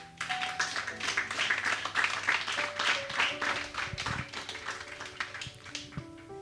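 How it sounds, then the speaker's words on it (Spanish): A church congregation claps in rhythm, sharp, evenly spaced beats over a sustained keyboard or organ tone, loud and steady before loosening slightly near the end. "Denle un aplauso a Dios."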